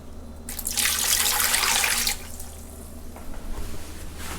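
Water is poured out of a container during a household refrigerator repair, a loud splashing gush lasting under two seconds before it tapers to quiet room sound with faint drips.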